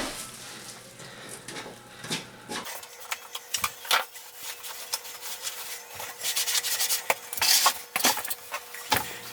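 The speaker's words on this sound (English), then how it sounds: "we'll scrape the rest of that off" A tool scrapes old wax off a toilet flange, giving repeated rough rubbing strokes at close range with no talk.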